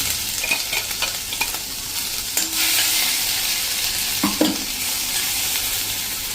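Garlic paste, chilli and ginger fry in a pan for a drumstick curry, giving a loud close hiss with a few stirring scrapes and clinks.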